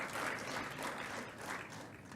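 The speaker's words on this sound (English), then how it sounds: "Another round of applause for the Permanent Secretary from the Ministry of Health." Sustained audience applause at a youth health forum, dense steady clapping from a crowd, fairly loud and continuous with no voices over it.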